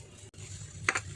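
Instant noodles being stirred and mixed in a pan, with a faint steady sizzle and a couple of brief scraping strokes near the end.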